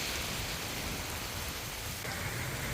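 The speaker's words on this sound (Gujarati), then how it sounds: "મેઘરાજા આ વિસ્તારમાં મન મૂકીને વરસી રહ્યા છે" Heavy monsoon downpour over Porbandar and Dwarka, Gujarat: a dense, steady roar of rain hitting surfaces, unbroken and loud throughout, with a slight shift in texture near the end.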